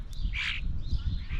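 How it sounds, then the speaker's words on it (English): European starling calling at a backyard bird feeder, one harsh, buzzy squawk near the start rising over steady low rumbling background noise. "European starling."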